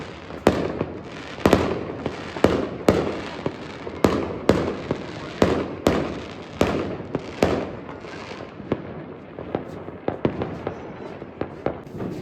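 New Year fireworks in Italy explode in a rapid series of sharp bangs and crackles, some near and loud, others fainter, with a constant rumble between the blasts.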